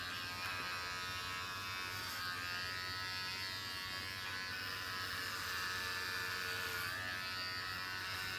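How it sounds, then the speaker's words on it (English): Electric clippers buzz continuously and close up, shaving hair in an arch for a pixie cut, with a steady even drone and no talking. "Instead of just doing a straight up shave, try and do it in an arch."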